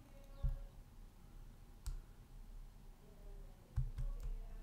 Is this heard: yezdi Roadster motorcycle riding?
no